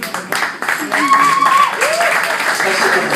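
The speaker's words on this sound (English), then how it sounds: "Let's hear a round of applause for our pretty women." A stand-up comedy crowd in Kuwait claps for the women in the audience, rising into steady, fairly loud applause after a brief spoken line, with voices and whoops mixed in.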